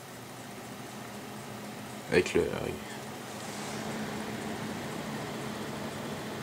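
PC case fans running at full speed give off a steady, airy whir that holds for the whole clip, with a brief spoken phrase partway through.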